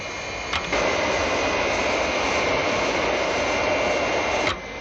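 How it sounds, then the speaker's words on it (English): Steady aircraft engine drone as a sound effect in a Captain Scarlet radio drama, loud and continuous with a sharp onset and cutoff, no voices over it. "Captain Scarlet and Captain Blue have regained control of the aircraft"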